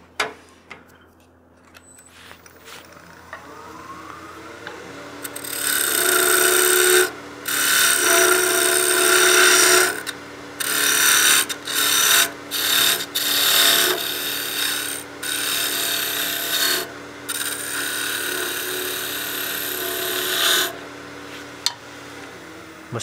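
Wood being turned down on a lathe for a birdhouse ornament, taking about a quarter inch off the diameter: steady scraping, rasping cuts in bursts of several seconds, loud and close, broken by short pauses, no talk.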